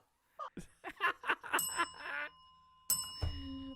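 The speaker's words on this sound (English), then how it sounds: "I heard 4 bells" Bicycle-style bells ring at a New Year's Eve party in a tavern, with bright metallic dings struck in quick succession and a final ring ringing out near the end, surrounded by lively chatter and background voices.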